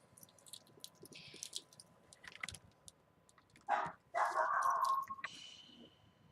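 A dog barks from another room, a few muffled, distant barks and yelps rising in the second half over quiet rustling and handling noises nearby.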